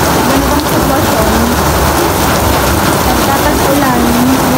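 Heavy rain pours steadily during Typhoon Carina in flooded Bulacan, a dense, loud, continuous hiss of rain on surfaces with no break and a low rumble beneath.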